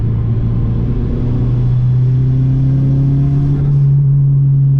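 A turbocharged Honda Civic engine pulling steadily under acceleration, its low droning tone rising slowly and evenly, loud and continuous, heard from inside the car.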